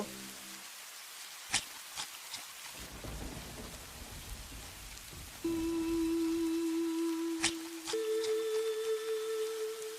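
Steady rain falls in a cartoon scene, a constant hiss with a few sharp clicks, joined midway by sustained tonal layers of music.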